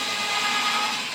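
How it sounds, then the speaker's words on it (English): A power drill whines briefly and steadily while pre-drilling holes in wood for a table build, a close, loud burst of motor noise. "Now, as before, pre-drill the holes."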